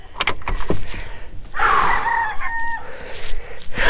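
A rooster crows loudly and close by, one drawn-out cock-a-doodle-doo in the middle, with bumps and clatter from handling before and after.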